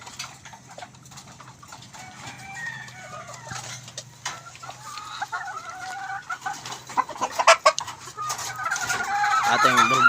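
Chickens cluck and chatter at morning feeding on a farm, a broodstag rooster among them, the calls building and growing louder toward the end over faint background hum.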